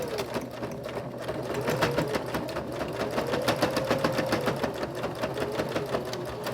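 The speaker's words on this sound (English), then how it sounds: "I'm going to stitch and then back stitch and to secure it better." Close, steady whirring of a sewing machine stitching forward and back across a pocket on a small lip balm keychain holder, the rapid needle ticks running continuously throughout.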